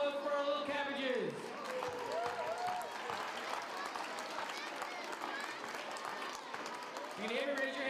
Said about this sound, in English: Can we give another round of applause for our little cabbages?